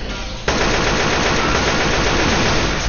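Continuous loud automatic gunfire in the video game Left 4 Dead 2 bursts in after a brief moment of quieter gameplay noise, a dense, unbroken rattle of rapid shots that fills the whole stretch without pause.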